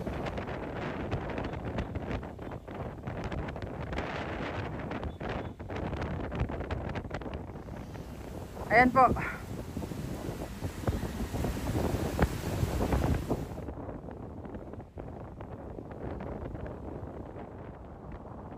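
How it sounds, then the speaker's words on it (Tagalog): Strong wind buffets the microphone with a constant rushing roar over rough, high-tide waves at Dolomite Beach on a rainy morning, with a short voice heard briefly in the middle. "Lakas ng hangin, umulan, sobrang maalon, and high tide, taas ng dagat."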